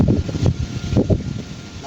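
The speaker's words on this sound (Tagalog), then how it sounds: "Nagtas ang hangin dito." Strong typhoon wind roars against the microphone outdoors, a rough low rumble with gusts surging and easing.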